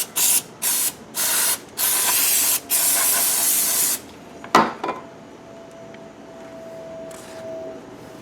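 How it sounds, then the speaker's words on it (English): Brake parts cleaner hisses from an aerosol can onto the gas filler neck area of a 1968-1982 Corvette C3. Several short, sharp bursts lead into one longer spray, followed by a few light metallic clinks and quiet handling noise. "I'm just going to spray some brake parts cleaner and clean this all up."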